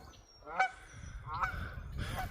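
A large duck in Edmonton, Alberta, Canada honks three times, loud and nasal, with short pauses between calls and no talking.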